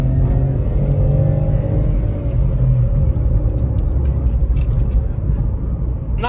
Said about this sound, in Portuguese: Vou dar uma aceleradinha pra gente sentir o carro aqui